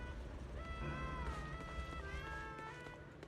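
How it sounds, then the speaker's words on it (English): Cats meow in the Zenless Zone Zero video game, several overlapping cries rising and falling over a busy game background with no talk. "I heard the cats."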